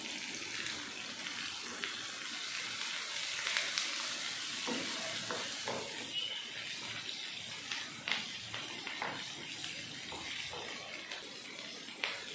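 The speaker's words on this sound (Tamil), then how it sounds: "வெங்காயத்தை வதக்கிடுவோம்" Onions sautéing with curry leaves and green chillies in a pan for a Tamil poriyal, a steady close frying sizzle with occasional scrapes and stirs, no talking.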